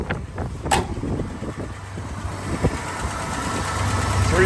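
A 1988 Jeep Grand Wagoneer with a 360 V8, automatic transmission and a newly fitted carburetor runs steadily at idle, a continuous low engine rumble that swells slightly toward the end, with a few faint clicks and knocks around it.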